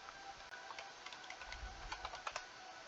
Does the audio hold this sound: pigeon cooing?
no